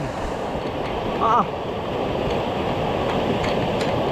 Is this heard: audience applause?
no